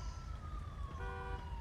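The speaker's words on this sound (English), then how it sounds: "fire truck is responding code 3" A fire truck siren in a GTA LSPD patrol game wails at moderate distance, its tone sliding and steady over a low engine rumble.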